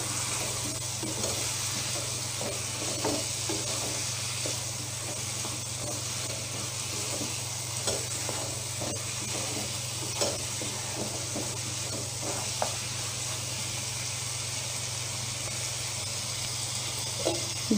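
Chicken pieces fry and sizzle in a hot pan while being stirred with pumpkin for a meat curry, a constant hiss broken by irregular scraping and clinking stirring strokes, heard close with no talking.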